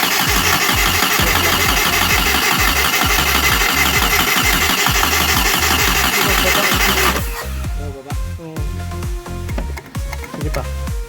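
An old Mitsubishi Galant engine cranks hard and steadily on its starter for several seconds, catches, then settles into a rough, uneven idle, heard close and loud with no talking.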